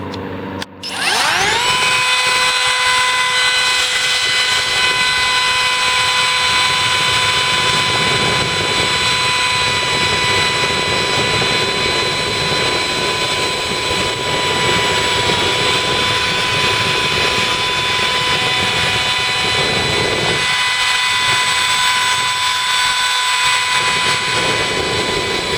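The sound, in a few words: Kobalt 24V brushless cordless router cutting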